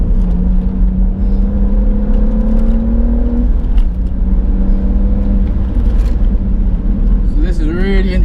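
A Stage 1 tuned BMW M140i drones through a hot lap at Bedford Autodrome, its engine note holding steady and loud from inside the cabin as the pitch rises and dips.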